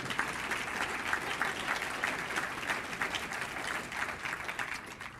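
Audience applause during a mayor's State of the City address: a moderate, steady rattle of many hands clapping, with individual claps faintly discernible in a continuous stream lasting several seconds.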